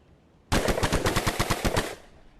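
An automatic gun fires in a VR physics game, giving one loud, close burst of about ten rapid shots that lasts roughly a second and a half and is followed by a short decay.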